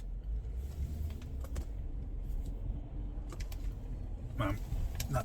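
A car's rear differential whines while the car is driving, a low rumbling road drone with faint intermittent rattles and clicks and no talking.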